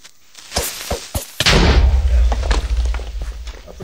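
A creeper explodes in Minecraft: a few soft thuds lead into one sudden loud blast at about 1.4 seconds, then a long rumbling low roar that stays heavy and slowly thins out.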